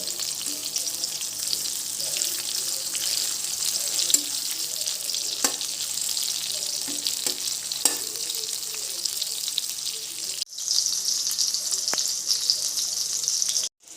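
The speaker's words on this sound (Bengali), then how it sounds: "এখানে পটলগুলো উল্টে দেব।" Pointed gourd slices fry in mustard oil with a continuous close sizzle, and occasional soft knocks come through as the pieces are turned over in the pan.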